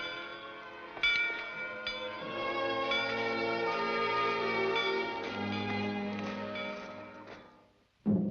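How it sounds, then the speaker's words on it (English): A bell rings in an animated frontier tale, struck a few times and left to hum in long, sustained, resonant tones that slowly fade before a sharp noise at the end. "Bell. I always liked bells."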